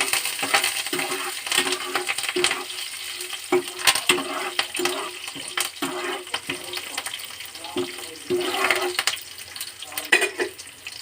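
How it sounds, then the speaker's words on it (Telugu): Tempering spices sizzle in hot oil as green chili, ginger and curry leaves go in for Bombay rava upma, with a close crackle and scattered sharp pops and clinks from a spoon, no talk. "పోపు దినుసులు వేగినాక పచ్చిమిర్చి, అల్లము, కరివేపాకు వేసుకొని కొంచెం వేగనియాలి"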